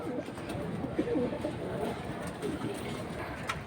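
Pigeons coo at a Bangladeshi pigeon market where Pakistani and Saharanpuri breeds are sold, soft repeated low calls rising and falling against a steady crowd murmur.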